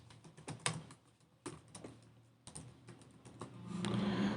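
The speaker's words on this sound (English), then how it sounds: "So let me just type in the trigonometric functions." Code being typed on a computer keyboard, a run of close, crisp key clicks in uneven bursts with short pauses, alone and fairly quiet, no talking.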